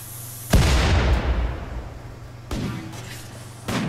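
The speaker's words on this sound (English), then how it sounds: "I'm shooting them with snipers from here." Sniper rifles fire in the RimWorld video game, with three sharp booming shots, the first loudest, each trailing off into a rumbling decay over a faint steady hum.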